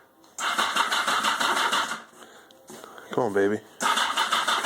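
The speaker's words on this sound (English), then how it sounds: "Let's see if the bike will start." Yamaha Maxim XJ1100 motorcycle engine cranks, pauses, then catches and runs loudly, with someone talking briefly between attempts.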